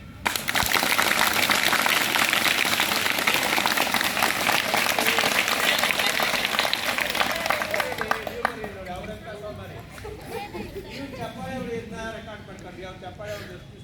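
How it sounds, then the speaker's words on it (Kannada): Students at a social welfare school in Chikkaballapura burst into loud, dense applause that holds for several seconds and then thins into scattered claps while a voice talks over it. "ಚಪ್ಪಾಳೆ ಹೊಡಿರಿ."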